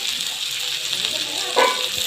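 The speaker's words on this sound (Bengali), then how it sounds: "এখন আমি দিয়ে দেবো এই ধুয়ে রাখা এই বতুয়া শাকগুলো" Washed bathua greens drop into a pan of flat beans frying in oil, a steady loud sizzle with a brief surge of crackle as the leaves land.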